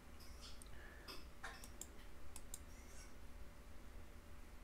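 A computer mouse clicks several times while working in structural analysis software for truss bridge design, quiet sharp ticks in a sparse irregular run against faint room hum.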